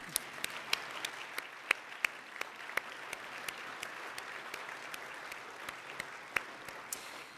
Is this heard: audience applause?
yes